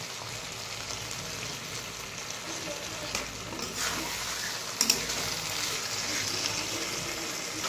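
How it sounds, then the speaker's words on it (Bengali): Foli fish frying in a pan, a steady hiss of sizzling oil with light stirring and a couple of brief taps, close and moderately quiet, no speech. "মাছগুলো একটু ভাজা ভাজা হয়ে গেছে, সামান্য পরিমাণে জল দিয়ে নামিয়ে নেব।"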